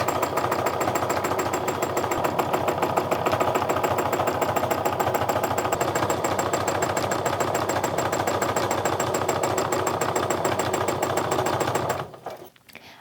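A sewing machine free-motion quilting a heart meander design, a rapid, even mechanical needle chatter running steadily and close for about twelve seconds before stopping abruptly.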